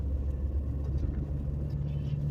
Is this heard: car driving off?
yes